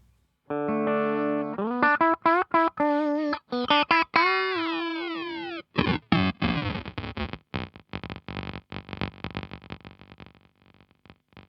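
Guitar through a Meris Ottobit Jr with sample rate reduction, notes turning into bleepy, aliased, computer-game tones that grow choppy and stuttering before fading out, loud and alone.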